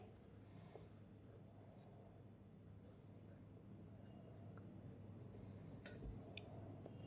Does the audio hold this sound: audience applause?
no